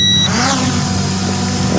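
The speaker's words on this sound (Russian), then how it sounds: "Делаем автовзлет." A JJRC X3 HAX quadcopter runs its automatic takeoff, motors holding a loud, steady buzzing whine nearby that shifts slightly in pitch as it climbs, with no voices.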